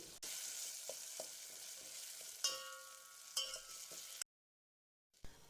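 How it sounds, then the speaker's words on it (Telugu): Crushed raw tamarind frying in hot oil after a tempering, a steady bright sizzle with occasional stirring scrapes, close and continuous until it abruptly cuts to silence near the end. "నూనె వేసి పోపు పెట్టుకున్న తర్వాత ఇలా దంచిన చింతకాయ వేసి దీన్ని కాసేపు పచ్చిదనం పోయేంత వరకు వేయించుకోవాలి"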